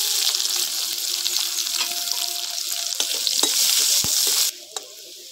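Chopped onion frying in a pan with five-spice seasoning, a steady loud sizzle with a few stirring scrapes and clinks, dropping off sharply near the end.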